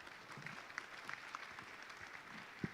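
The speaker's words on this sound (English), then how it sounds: "A big round of applause for our panelists." Soft, scattered clapping from a small audience for a panel discussion, fairly quiet and distant, continuing steadily for a few seconds.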